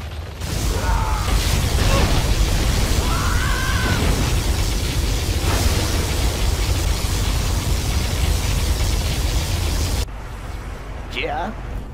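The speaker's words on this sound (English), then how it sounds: "Particle cannon activated." A particle cannon strike lands in the real-time strategy game Command & Conquer Generals Zero Hour, a loud sustained roar of blasts and mechanical crackle that runs for about ten seconds and then cuts off sharply.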